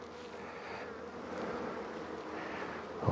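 Honey bees buzzing steadily around an open hive frame with larvae and a queen cell cup, a continuous close insect drone with no talk.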